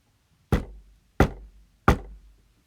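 Three firm knocks on a door, evenly spaced about two-thirds of a second apart, each a loud close thud with a short decay, alone in otherwise near-silence.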